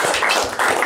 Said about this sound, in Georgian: ერთხელ კიდევ ტაში